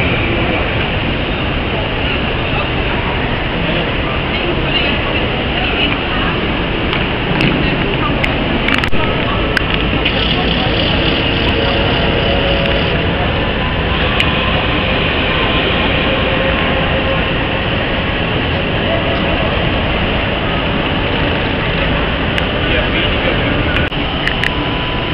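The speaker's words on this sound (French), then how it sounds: "ici vous voyez le train, là l'ICE qui donc est l'équivalent du TGV en Allemagne" An ICE high-speed train at a large, modern Berlin station, a loud continuous rumble and hiss of rolling stock and station ambience, with brief clanks now and then.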